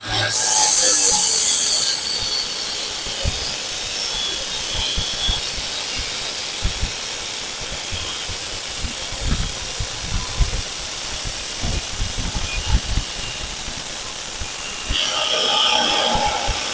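A homemade cutter built from an angle grinder slicing through 2.5-inch square steel pipe, making a loud, steady, close-up hissing grind that runs continuously, with a sharper whine at the start and end.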